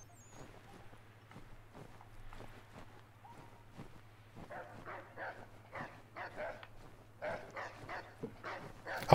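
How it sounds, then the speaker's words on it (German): A dog in the Assassin's Creed 3 hunting game barks and whimpers in a series of short, regular yelps that grow louder and busier toward the end, over a low steady hum. "Hundi, sei doch mal ruhig."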